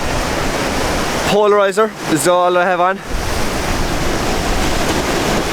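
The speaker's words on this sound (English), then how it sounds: "1 or 2 waves come in quite quick" Atlantic waves breaking on the rocks at Fanad Head in Donegal, a loud continuous roar of surf with wind buffeting the microphone, while someone talks briefly in the middle.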